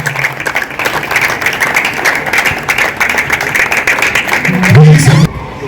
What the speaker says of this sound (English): Please, a round of applause for Jeremiah